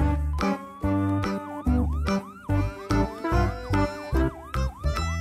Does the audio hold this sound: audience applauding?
no